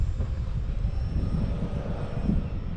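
A small SBACH 950mm stunt slow-flyer RC plane on a 3S battery, run at full throttle through snap rolls. A steady electric motor and propeller drone hums at moderate distance, with slight wavering and no speech.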